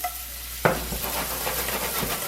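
Onions dropped into cooking butter in a pan for an omelette, a sudden burst of sizzling that settles into a steady crackle, close and alone.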